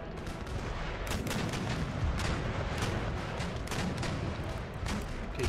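Ship cannons firing in Empire: Total War naval battle, a dense, continuous barrage of booming shots and crackling volleys, loud and overlapping with no pauses.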